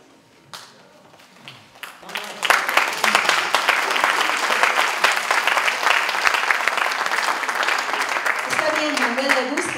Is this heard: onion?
no